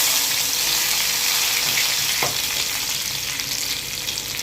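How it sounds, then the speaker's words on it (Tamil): Mustard seeds and curry leaves crackle and sizzle in hot oil for a prawn gravy, a loud, bright, continuous hiss close up with a single spoon clink partway through and no talking. "கடுகு பொரிஞ்சிடுச்சு, கருவேப்பிலை ஆட் பண்ணிக்கலாம்."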